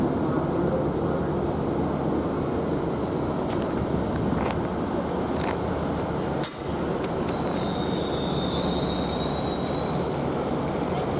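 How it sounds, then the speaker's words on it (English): A Greater Anglia class 755 electric train arrives at Ely station, a steady rolling rumble with high wheel squeal and a single sharp clank partway through, heard from the platform. "755-404 on this particular service, which is a Greater Anglia from Norwich to Stansted Airport, which is arriving at"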